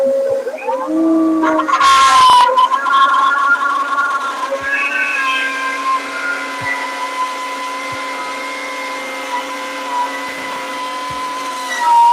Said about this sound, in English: Now we're gonna turn the vacuum on, turn the router on.